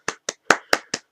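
Six sharp hand claps from the video game Broken Sword: Director's Cut, in a steady, slightly uneven rhythm, crisp and close, with short gaps of silence between them.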